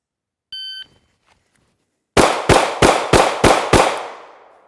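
Six sharp pistol shots from a SIG P365-MACRO TACOPS fired on an outdoor range in a fast, even string, loud and close, following a brief electronic shot-timer beep, with the last report trailing off.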